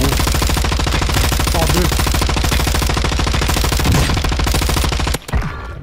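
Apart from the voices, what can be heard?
gunfire in the video game Warzone 2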